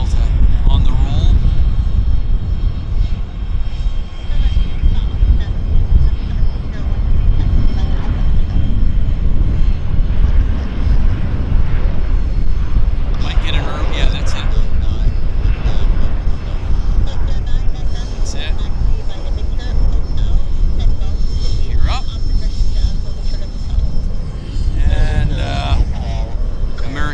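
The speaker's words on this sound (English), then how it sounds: "there is our Delta on the roll" A Delta airliner accelerates on its takeoff roll at Vancouver airport, a loud continuous engine roar and rumble that persists steadily throughout, with voices talking faintly beneath it.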